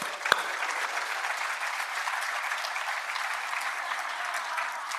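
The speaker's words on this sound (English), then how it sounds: "give yourselves a round of applause." Conference audience applauding themselves at an outdoor nature-based early childhood education gathering, steady dense clapping from a large room throughout, with no voices over it.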